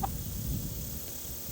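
A broody hen tending three young chicks gives faint, low clucks over a steady outdoor background, soft and somewhat distant.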